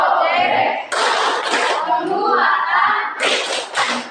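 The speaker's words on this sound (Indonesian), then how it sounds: "Mari kita lakukan tepuk berlima." A classroom of students doing rhythmic group clapping in the Indonesian 'tepuk berlima' routine, several loud bursts of claps with children's voices chanting and talking throughout.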